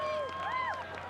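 Spectators at a Sasuke American 2015 obstacle-course competition cheer for competitor Kevin Bull, a loud, steady roar of crowd noise with raised voices rising and falling across the brief moment.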